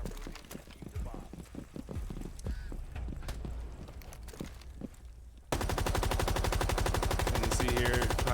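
In Rainbow Six Siege, a player fires through a hard wall. Scattered footsteps and clicks give way to a loud, sustained stream of rapid automatic gunfire that fills the last few seconds.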